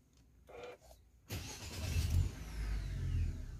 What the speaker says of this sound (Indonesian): cuma start stop engine aja ya